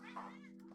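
A person imitates a cat's meow with their voice, producing a short, close vocal mew over a steady background hum during a game session.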